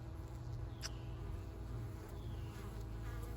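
Honeybees buzz at a hive entrance in a continuous, dense hum, with single insects droning past now and then. No voices are heard.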